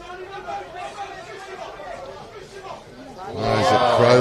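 At a rugby match between the NSW Country Cockatoos and ACT & SNSW Griffins, a commentator speaks over a murmuring crowd that suddenly erupts into a loud, rising roar near the end after a big contact.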